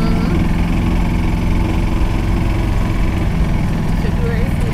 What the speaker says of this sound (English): where we're riding in the golf cart now